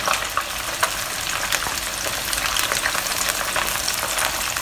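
Chicken pieces fry in a pan toward golden brown, a dense, steady crackling sizzle, close and continuous with a few sharper pops.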